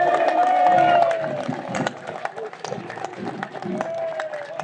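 Scattered hand clapping from a fairground crowd at the Bayonne ham fair, dense at first and then thinning, with a voice whistling and talking over the clapping.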